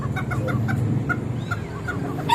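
A Serama rooster clucks nearby in a quick, even series of short soft notes over a faint background murmur.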